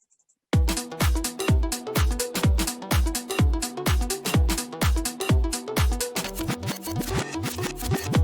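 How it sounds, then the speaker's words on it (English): An upbeat electronic track built in Ableton, now washed in hybrid reverb: a steady pattern of punchy kicks and bright tonal hits repeats in quick, even rhythm, loud and full with a roomy tail, starting after a brief near-silent moment and running without voices. "so I put in the hybrid reverb again"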